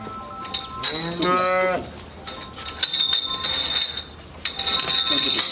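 A cow that has just calved gives a loud, drawn-out moo close by on a farm in Sargodha, Pakistan, with a bell ringing faintly and other farmyard noise around it.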